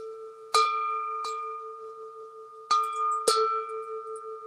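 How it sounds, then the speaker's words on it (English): A large hand bell rung several times outdoors during a bushcraft session, four sharp strikes each leaving a steady ringing tone that sustains and slowly fades between hits. "So I'm going to ring this bell a little bit"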